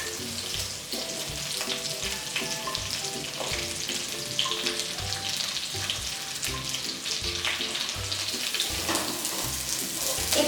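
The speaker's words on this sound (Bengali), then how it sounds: "পেঁয়াজগুলো ভাজা ভাজা হয়ে যখন আসবে" Large-cut onions and slit green chillies fry in a pan of oil, a steady loud sizzle filling the whole stretch with occasional stirring clatter and no talk.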